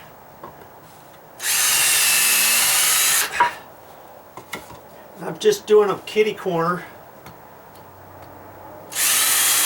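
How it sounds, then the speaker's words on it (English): A cordless drill pre-drills two screw holes into a wooden deck column being rebuilt after dry rot, two loud steady whirring bursts with a quiet gap of handling and someone talking between them. "Now I'm just going to pre-drill"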